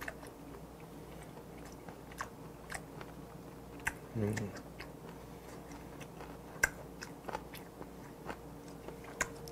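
Someone chews fermented skate from Mokpo's Cheongho Market with makgeolli, close up, with soft wet bites and scattered sharp clicks over a quiet background.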